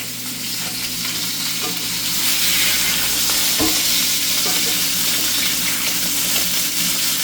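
Turkey burgers frying in a pan give a steady, close sizzle with crackling spatter that swells slightly after the first couple of seconds and carries on without talk.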